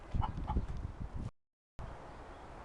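A chicken gives a couple of close, loud clucking calls, followed by a short silence and a quieter stretch of faint background sound.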